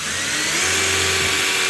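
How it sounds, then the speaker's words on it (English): A power drill bores pilot holes into a wall for anchors, a loud continuous high whirring hum with a steady motor tone throughout, close by and with no talking. "what I'm going to do is pre-drill some more holes so I know where to put the anchors"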